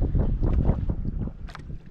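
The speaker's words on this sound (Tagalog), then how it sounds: "Simoy ng hangin oh." Sea breeze gusting across a fishing boat out on the Pacific, a steady low rumble of wind buffeting the microphone with a brief hiss near the end, loud and close, no voices.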